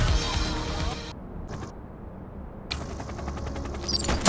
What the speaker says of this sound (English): Gunshot! Evasive maneuvers!